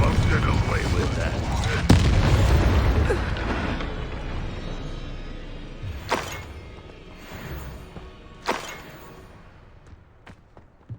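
Incendio fire spell blasts cast in the Hogwarts Legacy video game, heard as a loud rumbling burst followed by several sharp whooshing impacts at intervals amid game effects.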